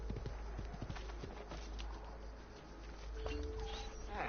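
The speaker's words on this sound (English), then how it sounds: "hoping this horse is just going to get faster and faster and faster" A horse gallops with rapid, steady hoofbeats in Assassin's Creed: The Ezio Collection. The hooves stay moderately loud and continuous under faint game ambience, with a brief tonal game sound near the end.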